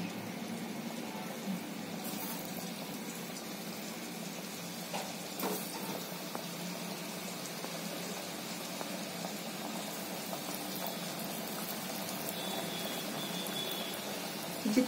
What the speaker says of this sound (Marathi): जरा चांगले खुसखुशीत तळून घ्यायचे